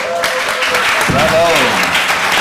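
Audience at an election-night event cheering, whooping and applauding loudly, a dense sustained wash of clapping with shouts and whoops rising around the middle, with some speech-like voices mixed in.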